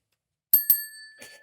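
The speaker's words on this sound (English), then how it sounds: "look who can hit the bell right, Ryan" A bell is struck twice in quick succession, bright ringing strikes that leave a sustained tone, followed by a fainter third tap; close and clear with no talk.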